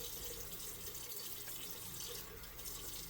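Water runs steadily from a kitchen sink sprayer, a continuous broadband hiss with a faint splashing texture, fairly close and unbroken for the whole stretch with no talking.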